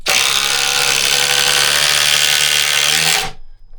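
DeWalt XR impact driver on a 1.7 Ah PowerStack stacked-lithium battery runs in one loud, continuous whir for about three seconds, then cuts off abruptly into a quiet tail.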